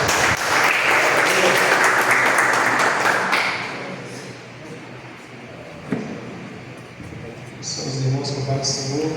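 A church congregation at a prayer meeting claps together in a dense wash of applause that fades over several seconds, leaving room noise with a few scattered sounds near the end.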